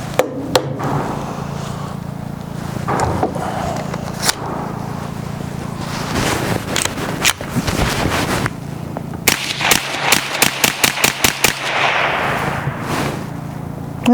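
A suppressed Kel-Tec CMR-30 rifle fires several muffled shots, closing with a fast string of sharp cracks, heard close amid background rustling and handling noise.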